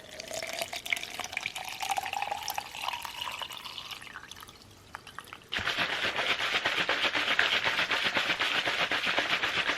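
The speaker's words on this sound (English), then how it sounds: "just follow us with water and give it a shake." Water runs into a protein shaker bottle, a rising filling tone for about five seconds, then a sudden switch to steady, loud broadband rushing and sloshing as the shaker is shaken hard until the end.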